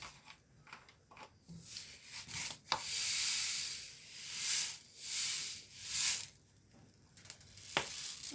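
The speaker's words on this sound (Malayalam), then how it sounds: "ഇനി ഇതിലേക്ക് ഞാൻ കുറച്ച് വെളിച്ചെണ്ണ ചൂടായ കുറച്ച് കടുകിട്ട് കൊടുക്കാം" Mustard seeds hit hot coconut oil and set off a loud, close hiss and sizzle that swells in waves, with light scraping and clinking around it and no speech.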